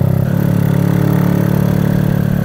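A Kawasaki Kaze R motorbike engine fitted with a PWK 21 carburetor, running close and loud with a steady rapid putter as the throttle is opened slightly, heard alone.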